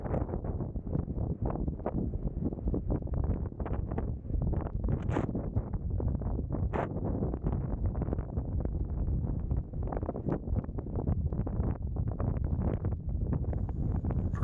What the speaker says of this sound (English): Pretty windy day today with moderately heavy seas.